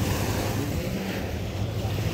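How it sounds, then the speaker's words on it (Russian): Sea waves washing onto a sandy beach in Dubai, a steady broad surf wash with wind noise across the microphone, continuous and moderately loud with no distinct individual breakers. "Волны."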